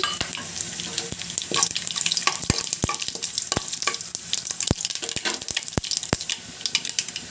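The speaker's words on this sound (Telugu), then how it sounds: "ఇందులో ఆవాలు జీలకర్ర మినప్పప్పు ఎండుమిర్చిని వేసుకోండి" Mustard seeds, cumin, urad dal and dried chillies crackle and sizzle in hot oil for a South Indian tempering, a steady fry hiss broken by sharp popping bursts as the seeds burst, close and fairly loud with no talk.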